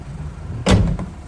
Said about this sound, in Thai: ปิดประตูนะครับ